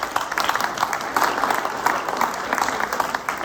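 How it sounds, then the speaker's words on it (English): Meeting audience applauding steadily for several seconds, a dense patter of many hands clapping at moderate distance in an indoor hall. "Clap."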